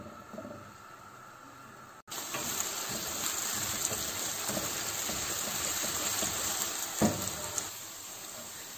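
Sliced onions fry toward medium brown for a yogurt chicken karahi, a continuous bright sizzling hiss that starts abruptly after a brief quieter lead-in and stays steady, with an occasional pop.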